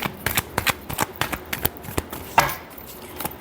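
Close shuffling of a tarot deck, with quick riffling slaps and the soft rustle of card edges in a brief, uneven burst.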